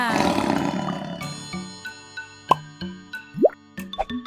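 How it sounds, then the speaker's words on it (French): A cartoon tiger gives one rough roar lasting about a second, followed by a string of bouncy cartoon plops and pops. "C'est un tigre."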